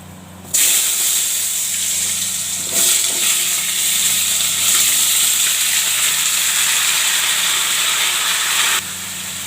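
Potatoes drop into hot oil already seasoned with cumin, nigella and mustard seeds for a vegetarian curry, setting off a loud, steady sizzle that jumps in at once and holds until it cuts out near the end, with no talking.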